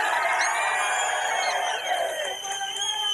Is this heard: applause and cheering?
yes